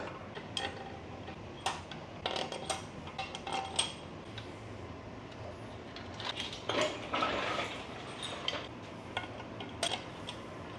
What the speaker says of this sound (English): Time to start dropping in some freshly lubricated ARP 2000 head studs.